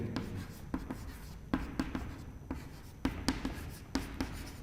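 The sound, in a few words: writing on a board during a lecture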